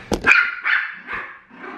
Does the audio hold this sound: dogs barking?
yes